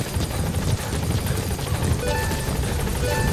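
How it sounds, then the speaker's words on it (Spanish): Helicopter rotor thumping steadily in the video game Metal Gear Solid 5: The Phantom Pain, a loud continuous chop holding for a few seconds with no talk. "ahí está el helicóptero"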